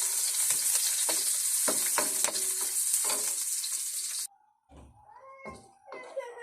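Onion and garlic sautéing in a pan give a steady close sizzle for about four seconds, with a few sharp stirring clanks. The frying then cuts off abruptly, leaving quieter clatter and faint background sounds.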